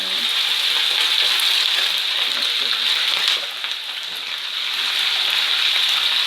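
Salted fish (makayabu) frying in hot oil, a dense, steady crackling sizzle heard close up that dips briefly midway before returning at full strength.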